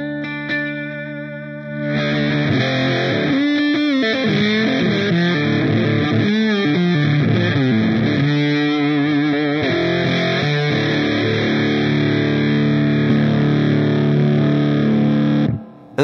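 Electric guitar played through a Paperboy Stank Face fuzz pedal, a hand-wired, point-to-point germanium-transistor fuzz, into an amp's clean channel: thick, saturated fuzzy chords and riffs ring out loud and steady for about fourteen seconds after a brief quiet start.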